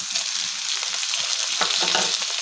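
Tomato pieces frying in a pan with onions and ginger garlic paste for a cucumber masala curry, a steady close sizzle and crackle with occasional stirring scrapes throughout.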